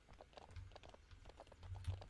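Horse hooves clip-clop steadily on the ground in a horse ranch video game, a close, even walking rhythm with no talk over it.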